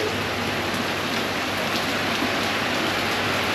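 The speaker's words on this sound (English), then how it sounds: "now it's like raining heavily, right?" Heavy rain pours steadily on Phi Phi Island in Thailand, a dense, even hiss of downpour close by with no voices.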